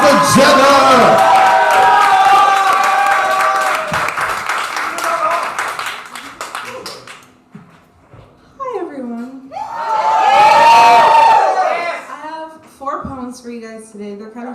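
Crowd at a spoken-word open mic claps and cheers for a poet walking up to the microphone, loud applause fading within several seconds, followed by a voice speaking and a swell of laughter and whoops.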